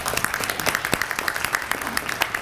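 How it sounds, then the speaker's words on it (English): A crowd applauds at an NAACP unit annual meeting, with many hands clapping in a dense, crackling burst that carries on steadily throughout. "Let's give them a round of applause."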